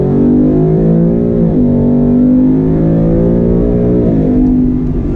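A 2019 Ford Mustang GT with the Performance Pack Level 1 accelerates hard from close range, its V8 rising in pitch through the revs, dropping briefly at a shift, then climbing again, loud and steady with no talking.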